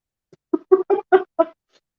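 A rooster-shaped kitchen ornament from Paris gives a short mechanical crow, five or six clipped, close bursts in a row with nothing else heard.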